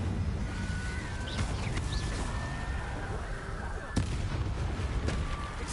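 A fire spell cast in a video game: a couple of sharp crackling bursts, the strongest a single loud snap, over a steady background ambience.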